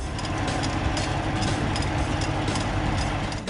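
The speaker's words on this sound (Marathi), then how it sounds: "त्यांचा मुलगा लावणीचं ट्रॅक्टर चालवताना दिसला" Steady, close drone of a planting tractor engine working on a modern Israeli farm, a loud low rumble with constant mechanical hum and no break across the few seconds.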